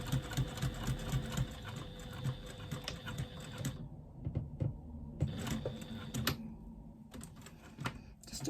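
A sewing machine runs in quick rapid-fire bursts while stitching a fabric clutch, its mechanical whirring stopping briefly and restarting as the seam is back-stitched, with soft clicks in the short pauses.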